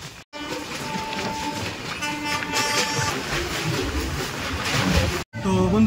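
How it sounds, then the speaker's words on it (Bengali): The 22201 Puri Duronto Express, recorded from on board, runs through Dakshineswar station. It gives a loud, continuous rolling roar with rhythmic clickety-clack and tonal horn-like tones. Two sharp dropouts break the sound. "আমাদের ট্রেন এখন ক্রস করছে দক্ষিণেশ্বর স্টেশন"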